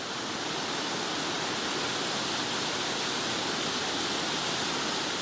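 Waterfall plunging over an edge into a hole at its base: a constant, loud, broadband roar of rushing water, steady and unbroken from start to finish.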